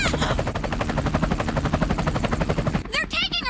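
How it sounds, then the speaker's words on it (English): Helicopter rotor chopping in an anime dub scene, a loud, rapid, steady thudding that fills the scene for nearly three seconds, then cuts to quieter moments with sharp voices. "What's a helicopter doing here?"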